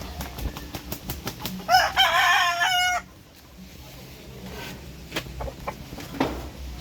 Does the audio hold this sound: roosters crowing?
yes